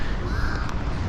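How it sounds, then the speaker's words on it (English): Crows cawing outdoors in Kenya by a roadside bus stop, one harsh, fairly loud caw standing out over low background noise. "All right, so many crows."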